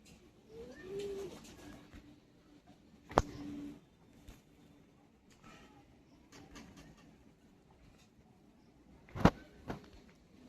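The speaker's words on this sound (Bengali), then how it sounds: "সব বিডার পায়রা এগুলো" Soft cooing from pigeons sounds from nearby in a quiet space, with a few sharp clicks and knocks breaking in.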